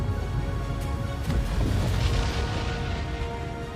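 A deep, rumbling boom swells and rolls on for several seconds, evoking a star exploding in a supernova, heavy and sustained with no voices.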